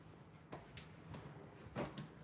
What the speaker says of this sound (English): Let me open the door because the kitty wants to go out.